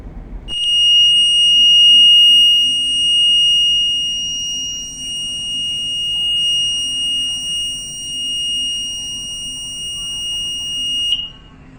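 A ship's steering gear overload alarm: a shrill, steady electronic tone sounds continuously for about eleven seconds over a low mechanical hum, then cuts off.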